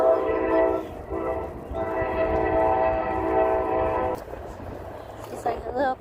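A train passes with its horn sounding in long sustained tones, loud and steady for several seconds before cutting off, followed by softer rail rumble and faint voices.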